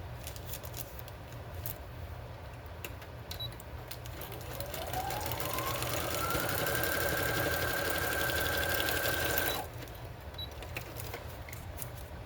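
A sewing machine stitches steadily for about ten seconds, its motor whirring up to a rising hum before stopping abruptly, with faint room noise around it.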